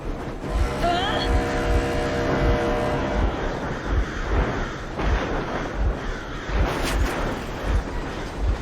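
Steady low engine rumble from a vehicle in the Metro Exodus video game, loud and continuous throughout, with a voice speaking over it early on and a faint whine rising and falling.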